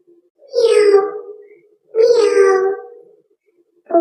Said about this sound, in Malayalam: പൂച്ച എങ്ങനെ ശബ്ദമുണ്ടാക്കിയേ?